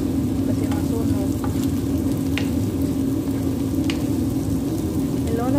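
Pancit noodles, made with Indomie, stir-fried and tossed in a hot pan, giving a steady, close sizzle and crackle throughout with occasional scrapes and clinks of the utensil.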